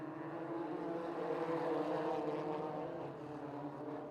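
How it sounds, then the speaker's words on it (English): Delaware Super Trucks race engines rumble together at the start of a short-track speedway race, a steady muffled low drone rising slightly and then easing, heard from some distance. "Up to Tony Ginta to hit the throttle."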